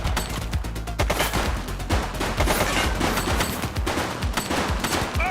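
Rapid, dense gunfire from a police shootout in The Precinct, with loud overlapping shots and bursts crackling continuously and close throughout, with no talking.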